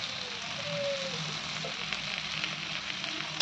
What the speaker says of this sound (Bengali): ভালো ভালো করে নাড়িয়ে নিচ্ছি, নাহলে গলার দিকে লেগে যাবে